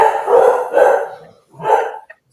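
Two rescue dogs howl and bark close by, loud drawn-out wails in three swelling bursts with brief yips between them, heard alone without talk.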